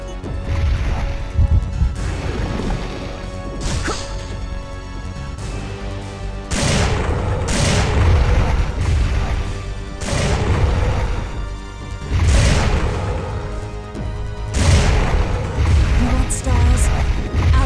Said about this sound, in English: 6 magnum rounds to kill him for good.